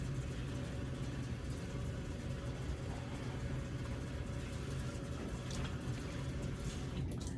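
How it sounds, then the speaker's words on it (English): Water runs steadily from a sink faucet while a basin is rinsed during a foot care procedure, a continuous even rushing that holds at the same level throughout with no talking. "and turn the water on."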